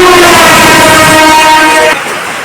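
Train horn blaring loud and close at a railway station, a single sustained harmonic blast of about two seconds that cuts off sharply into quieter rumbling platform noise.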